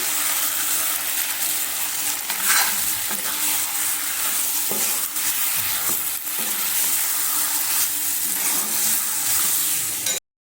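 Chicken with spice masala frying in a pan, stirred throughout: a steady loud sizzle with scraping and stirring strokes, the spoon knocking against the pan now and then, no voices over it.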